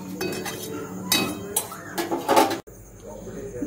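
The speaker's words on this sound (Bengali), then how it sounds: "আর ভালো করে কষিয়ে নেব।" A chickpea and mashed potato curry being stirred and fried with spices in a pan, heard as repeated metal spoon clanks and scrapes against the pan, close and busy, ending in an abrupt cut.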